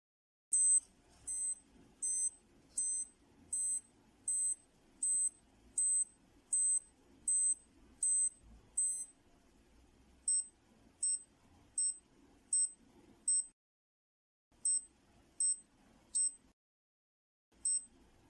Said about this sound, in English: this minute repeater, I love it. Let me do it again so you can hear it.